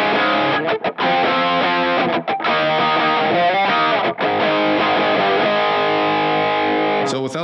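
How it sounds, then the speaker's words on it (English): An electric guitar plays through an MXR distortion pedal powered by a NUX Zeuz supply, sustained gritty chords with brief breaks between strums, loud and close. "Now we're going to move on to the MXR distortion."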